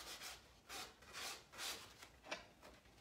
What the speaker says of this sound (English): just hold it firm and sand it